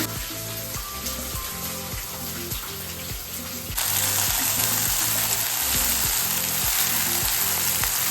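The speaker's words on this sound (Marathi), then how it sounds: "आता कांद्याची पात टाकते तेलामध्ये." Spring onion greens go into hot oil for a Khandeshi eggplant bharit, and the steady sizzle of frying jumps suddenly louder partway through as they hit the pan, over a soft repeating scraping underneath.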